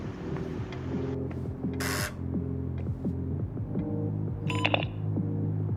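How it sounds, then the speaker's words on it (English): A buzzer sounds in the indie mystery adventure game Abel, heard as short electronic tones over a steady humming, looping game soundscape, moderately loud and without speech. "that might be the buzzer"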